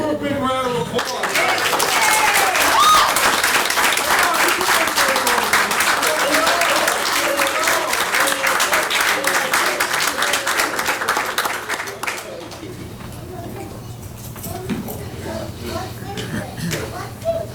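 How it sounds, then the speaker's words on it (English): Applause at a Mountainside, NJ council meeting, a long burst of dense clapping mixed with cheering voices that stops abruptly after about twelve seconds, leaving quiet room noise. "give her a big round of applause"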